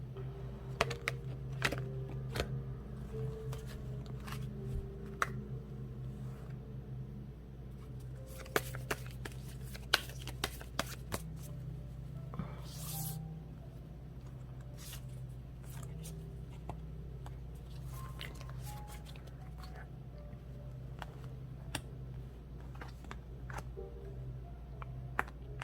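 Tarot cards are shuffled and drawn in a quiet room, giving soft, scattered paper clicks and light snaps at a low, steady level.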